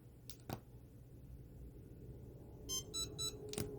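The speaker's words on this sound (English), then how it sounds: "hold the buttons down simultaneously for a few seconds, and you'll hear 3 beeps" Three short electronic beeps in quick succession from an EZ900 remote unit, fairly faint, over a low background hum, preceded by a couple of soft clicks.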